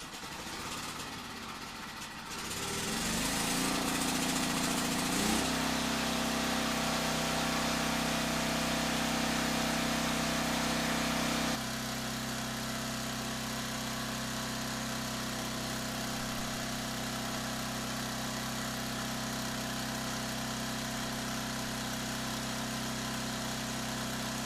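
The engine of a Hobart Champ 140 welder generator sputters into life after a pull start, then settles into a steady loud hum and drone, its pitch dropping slightly partway through, with no talk.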